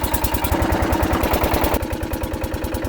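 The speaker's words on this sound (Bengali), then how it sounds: "এই মুহূর্তে আমাদের নৌকো কিন্তু ছেড়ে দিল" An outboard motor on a dinghy setting off through the Sundarbans runs loud and close, its fast steady putter pulsing evenly with a clattering mechanical edge throughout.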